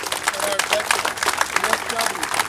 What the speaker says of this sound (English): And the police and the sheriffs, let's give them a hand clap.